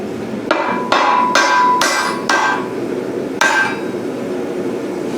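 Sharp, ringing hammer blows strike a welded aluminum hardtop frame for a boat, about six loud metallic impacts in an uneven rhythm, each with a short bright ring, close up and without speech.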